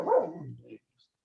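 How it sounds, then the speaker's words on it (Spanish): A hungry dog lets out a single loud, close bark that drops in pitch and trails off after under a second, followed by silence. "Hay que darle de comer al perrito. Estoy de hambre, por eso está ladrando."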